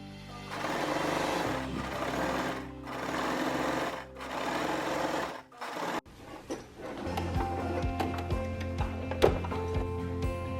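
A sewing machine stitches a seam on a skirt made from a men's button-up shirt, running in several rapid bursts separated by short pauses, then giving way to quieter clicks and handling sounds near the end.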